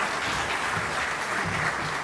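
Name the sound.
audience applause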